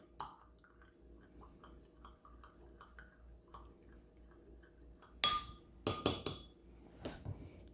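A Gibson cocktail is stirred in a glass: faint, quiet ticking at a steady pace, then a few louder, bright glassy clinks near the end.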